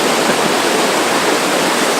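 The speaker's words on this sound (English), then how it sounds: "This is the Tuolumne River that's flowing down from Glen Aulin" Tuolumne River flowing down from Glen Aulin in Yosemite, a steady broadband rush of fast water that stays loud and close with no break.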